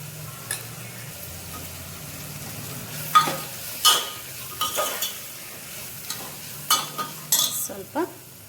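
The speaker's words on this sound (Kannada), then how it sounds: "ಸ್ವಲ್ಪ ರೆಡ್ ಚಿಲ್ಲಿ ಎಲ್ಲನೂ ಸ್ವಲ್ಪ ಕುಕ್ ಮಾಡ್ಕೊಂಡ್ಬಿಡೋಣ" Red chilli, green chilli and spices frying in a pan for veg pulao, a soft steady sizzle broken by scattered scrapes and knocks of a spoon stirring against the pan, close by with no talking.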